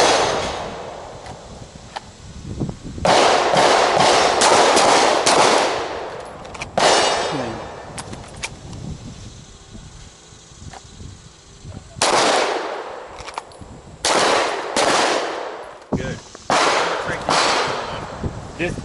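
Gunshots ring out during a near-far pistol shooting drill outdoors, loud sharp reports in quick bursts separated by pauses, with some voices between strings of fire.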